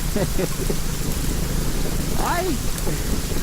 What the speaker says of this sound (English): And it sounds like rain.